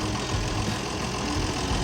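A steady, dense engine idle chugs continuously, close and moderately loud, with a rough mechanical rumble throughout.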